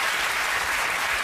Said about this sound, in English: One clap for Rob.